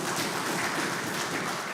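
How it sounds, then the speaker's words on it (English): Large audience at a Uganda Medical Association swearing-in and handover ceremony applauds in a steady, even wash of many hands, continuous and moderately distant with no talking. "Can you give them a round of applause?"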